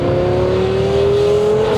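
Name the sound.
twin turbo Lamborghini Gallardo accelerating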